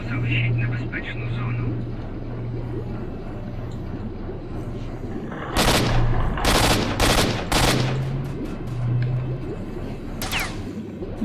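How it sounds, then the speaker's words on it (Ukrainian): Bursts of rapid gunfire crackle in quick volleys midway through in the video game S.T.A.L.K.E.R.: Shadow of Chernobyl, over steady background game noise and a low engine-like hum, with a voice talking. "Хто стріляє?"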